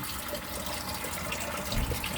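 Water pours steadily into a crayfish tank, a continuous close splashing and gushing that swells slightly louder near the end.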